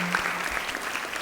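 A short burst of applause from a small group at a conference meeting, steady clapping throughout with no voices.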